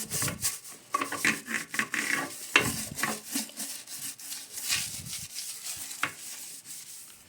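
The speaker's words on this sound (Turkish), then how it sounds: "Şu dip kısımları özellikle iyice temizlememiz gerekiyor." A brush rubs and scrubs against the bottom of a yellowed toilet bowl, producing close, irregular scraping strokes in quick uneven bursts with no voices.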